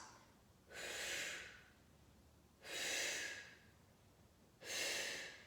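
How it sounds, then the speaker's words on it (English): Three slow, deep breaths taken during a Pilates mat exercise, each one a soft, breathy rush of air about a second long with a pause between, heard close up in an otherwise quiet room. "3 deep breaths."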